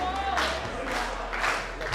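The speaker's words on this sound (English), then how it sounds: "Crowd getting behind Taylor Rising here" A wrestling arena crowd cheers for Taylor Rising in a continuous roar of voices and clapping, with a commentator talking over it throughout.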